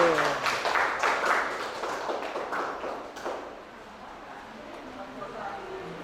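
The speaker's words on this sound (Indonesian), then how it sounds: "Oke, kita beri tepuk tangan dulu." A classroom of students claps in a brief patter of separate hand claps that fades out after about three seconds, leaving a quiet room with some faint voices.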